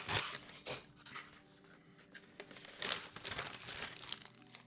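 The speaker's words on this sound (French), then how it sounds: "on ouvre ce sachet" A paper LEGO parts bag for a McLaren MP4/4 model is torn open and crinkled by hand, close and fairly quiet, in several irregular bursts of rustling.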